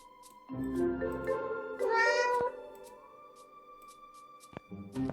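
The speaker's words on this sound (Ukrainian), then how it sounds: "Кіт налякав мене." A drawn-out, strained cat meow in the video game Dark Riddle rises and falls over a couple of seconds, close and clear, amid synthetic game tones and hums.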